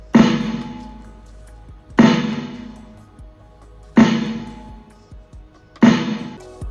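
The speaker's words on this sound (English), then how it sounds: "This third drumming rudiment is called the flam." A flam rudiment played on a drum kit: four loud strikes spaced about two seconds apart, each with a bright attack and a ringing decay, and no talking.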